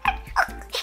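Puppy at an airport giving a few short, close yips and small barks in quick succession, brief and fairly loud.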